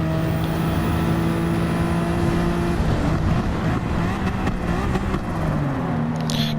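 A race car engine in the Gran Turismo video game drones loudly and steadily, then its pitch dips and climbs again as it accelerates, with roaring tire and wind noise throughout.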